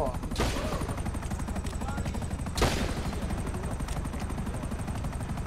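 Rapid gunfire in GTA V with dense, sustained shots over a steady helicopter rotor drone, two louder bursts standing out, a player speaking over the action.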